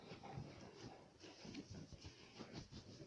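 Dogs tussling over a toy tiger, with a continuous rough mix of low growls, snorts and scuffling at close range, fairly quiet overall and with no talking.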